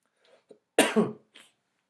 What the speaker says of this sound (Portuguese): Desculpe a minha tosse